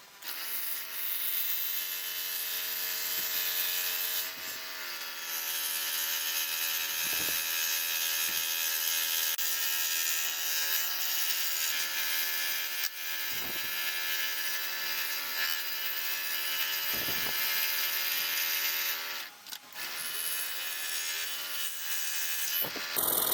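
A power scroll saw with a number 3 blade whines steadily as it cuts through wood, with brief pauses between cuts; close and continuous, no voices.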